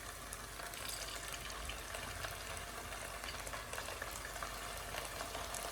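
Small beef pieces for crispy chilli beef frying in hot oil in a pan, a quiet, steady bubbling sizzle that holds evenly throughout.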